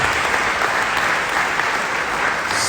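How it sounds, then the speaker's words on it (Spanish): Steady, loud applause from a church congregation honoring Jesus Christ, a dense even wash of clapping sustained throughout with no voices over it. "Den un fuerte aplauso a Jesucristo."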